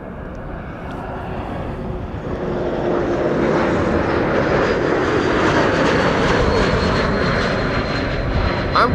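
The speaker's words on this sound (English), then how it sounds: "This is KLM flight 936 arriving from Glasgow" A KLM airliner arriving from Glasgow at Amsterdam Schiphol, its engine roar swelling from a distant rumble to a loud, sustained close pass.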